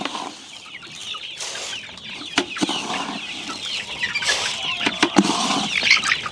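Farm chickens around a feeder at feeding time, scattered clucks and calls with occasional wing flaps and sharp knocks, moderately close with no talking.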